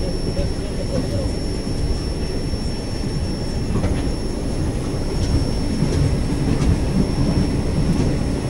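Devagiri Express, an old ICF-coach train from Secunderabad to Mumbai CSMT, rumbling along the rails near Nanded in a loud continuous roar with a faint clickety-clack and a high wheel squeal.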